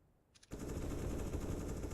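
Rapid automatic gunfire from Counter-Strike: Global Offensive on the Dust2 map bursts in loudly after a brief quiet start and runs as a continuous rattling stream.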